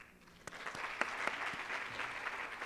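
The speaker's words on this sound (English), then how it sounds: "please join me in a round of applause" Soft applause from an audience at a maternal mental health summit, with a few sharper individual claps standing out in the steady patter.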